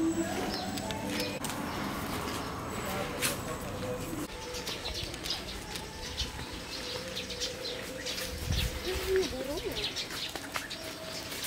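Birds call and coo at a mini zoo in KLB Garden, Borneo, with soft scattered chirps and a brief flutter over steady outdoor background noise and murmuring voices.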